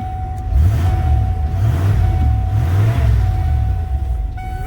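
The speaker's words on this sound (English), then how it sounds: "She's got a good, nice little straight pipe exhaust on it." A 1992 Ford F-150 with a 302 V8 and straight-pipe exhaust idles loudly up close, its deep, throbbing low rumble rising and falling in a steady lopey rhythm.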